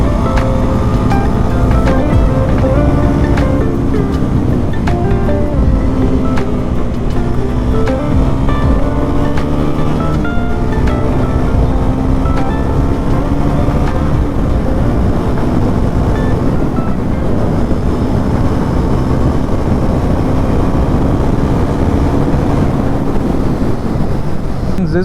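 Bajaj Pulsar NS400Z motorcycle on the move, its engine drone buried under steady, loud wind buffeting across the whole stretch, with gentle shifts in pitch as the ride goes on and no talking.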